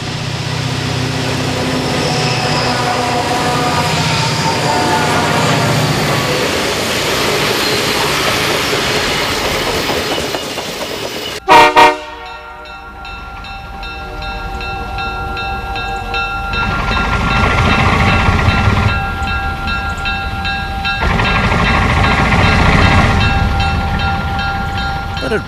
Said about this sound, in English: the big diesels, like this triple CSX unit, can pull over 100 coal gondolas